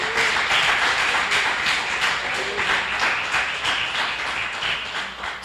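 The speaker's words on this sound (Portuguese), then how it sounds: "Você pode aplaudir ao Senhor com o seu melhor?" A church congregation applauds together in a steady, dense wash of clapping that holds loud for several seconds and eases slightly toward the end, with no voices over it.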